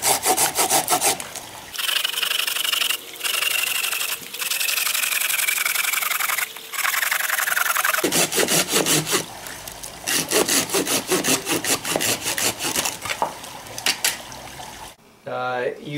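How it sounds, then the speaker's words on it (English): A Gerber Gator combo saw cutting through big tree limbs gives repeated rasping strokes of blade on wood, rhythmic and close, with short pauses between bursts. "it's not a saw that I would use to cut big limbs like you're seeing me try to do there"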